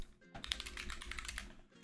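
Someone types on a Glorious PC Gaming Race GMMK mechanical keyboard, giving a quick, close burst of clicky keystrokes that lasts under two seconds, with no speech.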